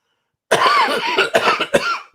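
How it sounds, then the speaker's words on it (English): A close, loud bout of harsh coughing, several hacking coughs in quick succession. "still coughing my guts up, I'm afraid"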